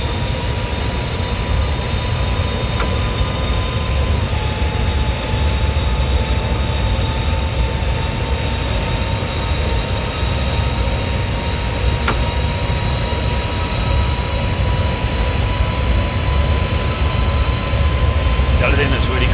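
A Chinese CRH2A bullet train rumbles steadily in Train Simulator 2015, giving a continuous loud, even roar with a faint high whine and a few clicks.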